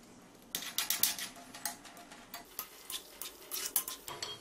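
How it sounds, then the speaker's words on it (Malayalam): Cashew nuts tossed into hot ghee in a pan give a run of quiet, irregular clinks and taps, like utensil against metal, with no talking. "സ്റ്റൗ കത്തിച്ചിട്ട് കാഷ്യൂനട്ടും കിസ്മിസും ഒക്കെ നമുക്ക് നെയ്യിൽ വറുത്തെടുക്കാം"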